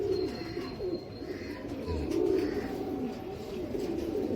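Royal Teddy breeder pigeons cooing in a loft, with a steady run of low, throaty coos and a few faint chirps, close by and with no talk.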